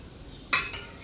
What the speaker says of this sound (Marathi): आता मी मिक्स करून घेते थोडं पूर्ण तेल त्याच्यात लागेलच